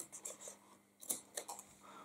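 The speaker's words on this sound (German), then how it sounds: "Ich habe einfach meine Schere genommen, die so nah wie möglich an den Deckel gelegt" Scissors cutting paper close along the edge of a gift box lid, a series of quiet, crisp snips in an uneven rhythm, heard alone.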